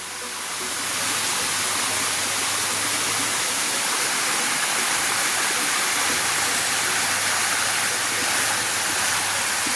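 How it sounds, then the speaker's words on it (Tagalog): Steady, full-bodied rush of a waterfall on a farm lot in Calauag, Quezon, a continuous broadband roar that fades in over the first second and then holds constant, close by. "yan pong binabagsakan na yan ng tubig"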